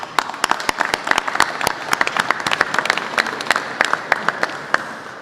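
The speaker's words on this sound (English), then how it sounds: "Give yourselves a round of applause." Scattered applause from a modest indoor gathering at a Pennsylvania pension reform bill signing, individual claps distinct and close, irregular and fairly brisk throughout.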